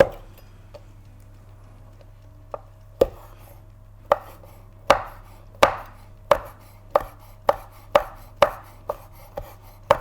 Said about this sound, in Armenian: Կտրատում ենք գծու բաղբեղը